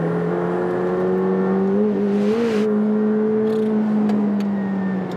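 A 2020 sports car engine on a wet, drying race circuit, sounding like a McLaren, holds a loud steady droning whine with slight pitch wobbles as it accelerates, close and continuous with no voices.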